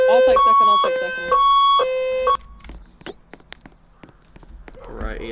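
Fire station turnout alarm in a UK roleplay video game, sounding as loud, steady repeating two-tone beeps for about two seconds, then fading to scattered clicks and thuds while people talk.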